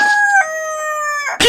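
A rooster crows once, loud and close, a long strained cock-a-doodle-doo with a clucking note breaking in at the very end.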